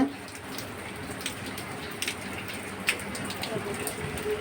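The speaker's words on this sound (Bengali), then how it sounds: "এ দেখো বন্ধুরা বৃষ্টি হচ্ছে" Steady rain falls outside a house in Kushtia during a wet morning, a soft continuous patter with occasional louder drops close by, heard alone without anyone talking.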